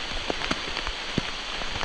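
Rain patters steadily on a surface during a hike in the Ozarks near Hawksbill Crag, a dense close hiss broken by a few sharper drips.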